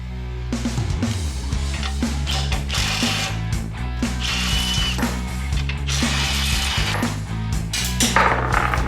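A half-inch steel rod is cut to fit on a 1967 Sears Custom 6 mower build, giving close, repeated rasping strokes with rhythmic metallic clicks and ringing, steady in loudness.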